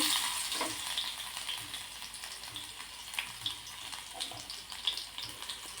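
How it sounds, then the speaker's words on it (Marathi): Chopped garlic fries in hot oil with cumin and mustard seeds, giving a steady close crackling sizzle with small pops and sputters throughout. "लसूण छान असा लाल होईपर्यंत किंवा सोनेरी होईपर्यंत परतून घ्यायचा तेलावर."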